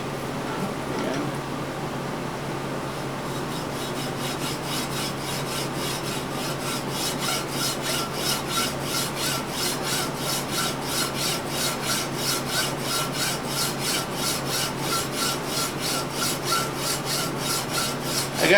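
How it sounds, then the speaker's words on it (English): A hacksaw cuts into the metal of an intake with steady rhythmic rasping strokes that speed up into a quick, even back-and-forth, close and fairly loud. "just take a hacksaw."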